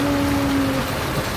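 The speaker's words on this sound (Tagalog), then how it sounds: "umuulan pa paano mag-swimming" Steady rain falls at a hotel pool during a staycation, a dense, even hiss that fills the space, with a faint tonal hum underneath and no talking.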